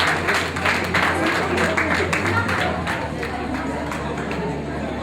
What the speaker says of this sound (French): Applaudissements pour les candidats